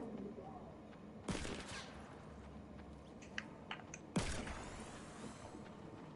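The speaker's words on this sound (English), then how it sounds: "I hear someone shooting" Gunfire in a Fortnite match, heard as two sharp bursts of distant shots separated by a quieter stretch, with faint background noise between them.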